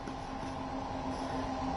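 A train in the Train Sim World video game arrives from the right with a steady mechanical hum and faint rolling noise, brief and continuous at moderate level.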